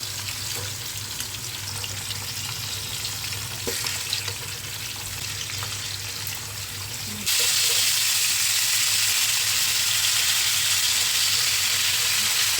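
Salmon fish bones sizzling and frying in hot oil in a pan, a steady loud crackle that grows even louder and brighter partway through as more pieces go in, with no voices.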